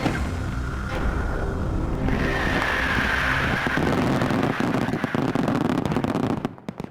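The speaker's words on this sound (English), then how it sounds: "the exploding fireworks are accurate to within 1/1000th of a second" Fireworks crackle and rumble in a dense barrage, with deep booms and sharp pops overlapping, then fading near the end.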